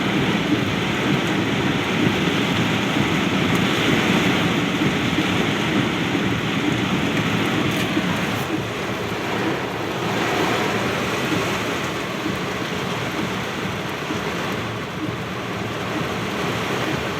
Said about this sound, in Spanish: Pinche aguacerazo.